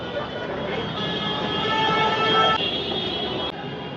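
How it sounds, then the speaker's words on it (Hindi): A metro train pulls into a station in Lucknow with a steady, loud rolling rumble and a sustained whine of motors and brakes, continuing for several seconds before it eases off. "लगता है कि मेट्रो आ गई है। ये आ गई मेट्रो हमारी।"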